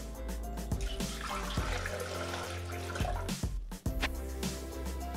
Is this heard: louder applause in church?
no